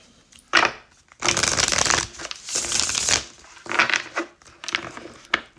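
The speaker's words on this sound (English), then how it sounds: "I'm just going to shuffle again for them." A deck of oracle cards is shuffled by hand, several bursts of riffling and sliding card noise, close and crisp, with short pauses between shuffles and no talking.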